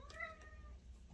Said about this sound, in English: That was my cat, Trafford.